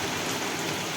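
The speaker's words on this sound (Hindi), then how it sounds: "ये हो गई बारिश शुरू" Steady, dense rain hisses across a surface, an even wash of drops with no voices.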